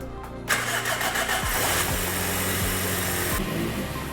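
A Toyota 4AGE 20-valve engine in an AW11 MR2, fitted with modified AE111 headers and a 2¼-inch exhaust, cranks briefly, catches and fires up, then settles into a loud, close, steady idle with slight revving.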